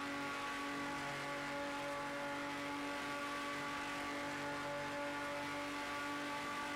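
A Porsche race car at Le Mans in Project CARS 2 holds a steady, faint high-speed engine drone with a sustained tonal whine, running alone without sharp changes.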